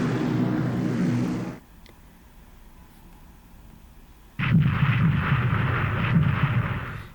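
Torpedo hits on a ship in the War in the Pacific naval strategy game: two loud, low rumbling explosion blasts separated by a quieter pause, each heavy and sustained, with no talking.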